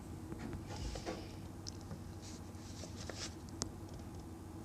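Pen moving across paper while writing Gregg shorthand strokes, a soft continuous scratching with brief pen lifts and light taps, close up over a steady low background hum.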